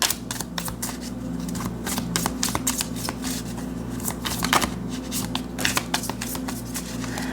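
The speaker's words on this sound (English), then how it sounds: "We have like big chunks of cards wanting to come out." A deck of tarot cards being shuffled close up, with repeated riffling and clacking bursts over a steady low hum, no voices.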